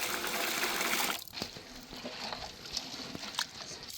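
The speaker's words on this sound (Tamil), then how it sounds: "பருப்பை கழுவுறது தண்ணி சேர்த்துக்கிறோம்" Water poured in while washing lentils for a South Indian sambar, a loud gushing splash for about a second, then softer sloshing and scattered small clatters.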